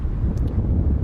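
Wind buffets the microphone at a cricket ground, a loud steady low roar with no talk over it.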